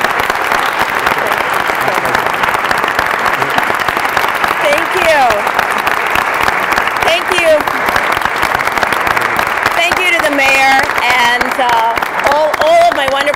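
Audience applause greets Susan Montee, candidate for Lieutenant Governor of Missouri, at her formal campaign announcement; dense, loud clapping runs steadily throughout, with a few voices calling out over it.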